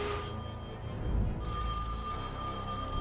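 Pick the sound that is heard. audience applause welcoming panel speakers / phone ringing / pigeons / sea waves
phone ringing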